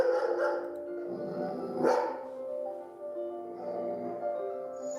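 A dog in a kennel barks and yips in a loud, continuous stretch, with a sharper burst near the middle and steady tonal cries throughout, close and alone without talk.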